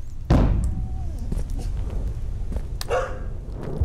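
A dog barks indoors, one loud sharp bark near the start and a second shorter bark later, over a steady low background hum.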